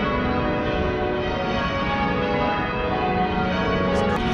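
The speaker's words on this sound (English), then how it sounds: "There's like some sort of bells that's ringing. Can you hear it? It is Sunday." Church bells ring on a Sunday in Sydney, a continuous rich metallic peal that fills the whole stretch at steady loudness, with no talking.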